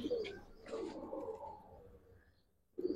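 Old-breed Giribaz pigeons coo softly in a loft, with a few low, faint murmuring calls close by and a short pause before another coo starts.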